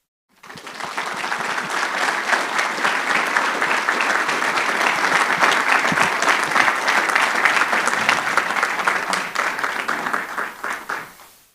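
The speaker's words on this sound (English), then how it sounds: "Please join me in a round of applause as Marian takes her seat." Sustained audience applause at an awards event, dense even clapping that starts abruptly, holds steady for about ten seconds, then tapers off at the end.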